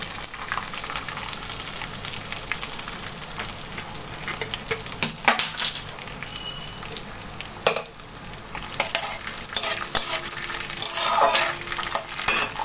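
Cashews with cinnamon and cardamom frying in oil and ghee, a steady close sizzle broken by stirring clatters and scrapes of a spoon in the pan, growing slightly louder toward the end.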